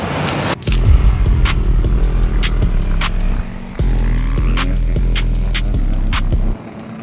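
Motorcycle engine running loud and steady outdoors during a hard ride, with a throbbing low rumble, sharp gear-change dips and a brief rev surge partway through, ending in a sudden drop near the end.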